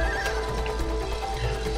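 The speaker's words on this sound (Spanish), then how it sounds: "Caballo. Caballo." Horse neighing in the co-op video game It Takes Two, a whinny with clip-clop hooves and game music behind it, loud and close with no talk.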